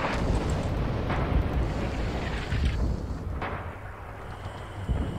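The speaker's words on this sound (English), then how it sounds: "Drop artillery up at the bunker to cut them off." An artillery barrage in Red Orchestra 2 at Mamayev Kurgan in the Battle for the Volga: a dense, continuous roar of distant explosions that rumbles steadily, eases slightly partway through, and is heard without any voices.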